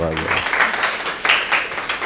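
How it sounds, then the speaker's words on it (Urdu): Audience applause at an addiction treatment talk, a burst of clapping from a seated crowd that rises and falls, with a speaking voice layered over it. "کتنی زبردست بات کی، تالیاں اس پہ بنتی ہیں"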